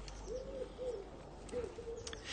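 A pet bird, apparently a dove or pigeon, gives soft, low cooing calls in two short phrases, close and gentle over a quiet indoor background, with no talking.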